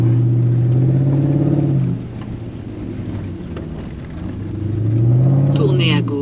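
Porsche Cayenne driving along a dirt track in southern Morocco, a close, continuous engine drone that dips and swells with throttle, with rumbling tyre and gravel noise; a voice briefly cuts in near the end.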